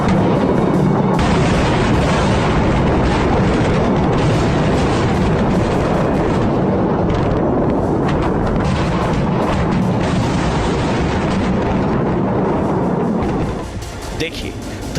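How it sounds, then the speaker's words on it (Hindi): Bomb explosions in Beirut, Lebanon, during an attack: continuous loud, rumbling blasts and crackling booms roll one after another through the city, with a voice talking over the din. "देखिए, धमाकों पर धमाके हो रहे हैं।"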